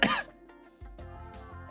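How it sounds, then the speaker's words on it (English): A single short, sharp cough from a synthetic streamer voice, followed by faint low background sounds. "I can make a cough sound"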